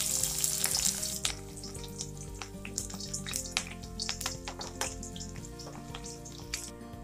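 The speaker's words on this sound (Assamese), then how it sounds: "तेलखिनि गरम होय गैछे। एतिया मैं इयात पियाजखिनि दि दिछो।" Onions drop into hot oil and fry with a loud, dense crackling sizzle that settles into a steady close hiss, with a low hum underneath.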